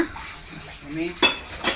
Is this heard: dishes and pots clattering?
yes